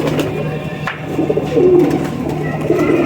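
Lakha and Patti-wala cross-breed pigeons coo in low, repeated murmuring calls close by, over a steady background hum.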